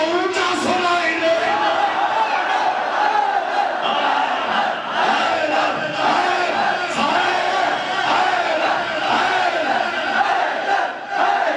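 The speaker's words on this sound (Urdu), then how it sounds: "اور زور سے نعرہ لگاؤ حیدر کا" A large crowd at a religious celebration at a mosque loudly chants the slogan "Haidar" together, a dense roar of voices sustained throughout with rhythmic surges.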